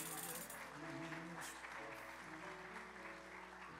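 An audience at an awards ceremony for a radio festival claps, a broad wash of applause that continues under tonal background sound and fades slightly toward the end.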